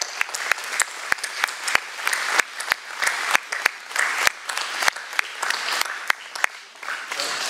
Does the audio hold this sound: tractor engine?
no